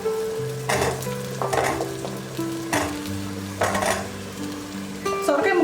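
Curry leaves and bottle gourd pieces drop into a hot pan and fry with a close, steady sizzle, broken by a few bursts of stirring and clinks of a utensil against the pan.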